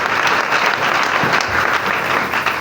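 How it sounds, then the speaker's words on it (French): A church congregation claps and cheers steadily for a doctor stepping up to speak, a dense, lively wash of applause that holds evenly from start to finish. "On l'encourage avec les acclamations."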